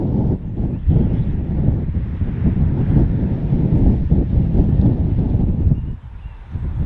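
A mild west wind blows constantly over the microphone by the sea, a loud, even buffeting rumble that eases slightly near the end.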